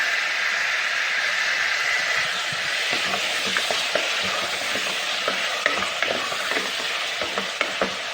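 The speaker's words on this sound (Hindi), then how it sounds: "2 चम्मच के बराबर 2 टेबल स्पून ऑफ आटा, जिसको मैं लाइट ब्राउन करूँगी" Two tablespoons of wheat flour dry-roast to light brown in a pan for chicken nihari, giving a soft, steady hiss with irregular scraping and tapping of a spoon stirring against the pan, growing sharper toward the end.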